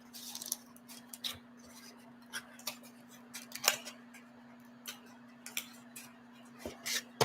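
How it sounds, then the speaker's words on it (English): Scissors snip through oversized cards in short, irregular cuts, crisp clicks spaced apart over a steady low hum, close and fairly quiet. "I got to cut this off the bottom"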